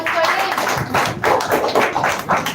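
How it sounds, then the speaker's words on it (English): Clapping from an audience at an English-learning grand finale event, uneven bursts of hand claps in pulses, fairly close and loud, as the next speaker is called up. "give a big round of applause for"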